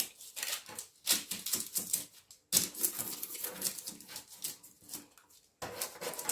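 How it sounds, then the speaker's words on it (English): Scissors snipping parchment paper to fit a baking tray during vegan carrot cake prep, a run of crisp close cuts and rustles in bursts, with a brief pause midway and no talking. "a parchment paper, and I'm going to show you how to cut it so it has the exact shape of the tray"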